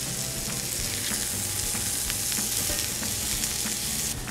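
Turkey slider patties fry in a pan after being flipped, a loud, steady, close sizzle with faint crackles running the whole time.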